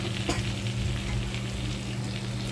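Miso sautéing in hot oil for bangus sinigang, a steady close sizzle and crackle of frying that runs unbroken throughout with no voices.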